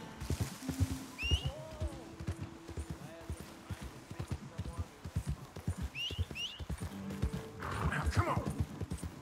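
Horses in Red Dead Redemption 2 clip-clop steadily at close range, with several bright neighs and whinnies rising above the hoofbeats and faint voices in the background.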